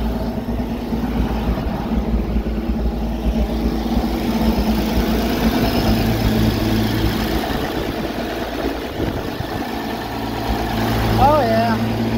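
An Oliver 770 tractor engine idles with a low, steady rumble close by, while people talk over it.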